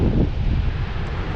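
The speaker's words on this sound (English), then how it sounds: "It's quite windy and the wind is coming from the north, so I have a pretty strong side wind." Strong northerly side wind roars and buffets across the microphone on an open coastal road in Morocco, a continuous dense rumble that fills the moment with no voices.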